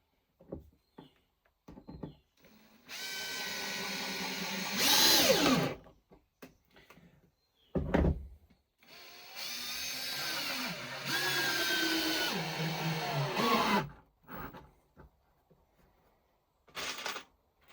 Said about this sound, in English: I'm gonna put lots of screws, 2 per plank.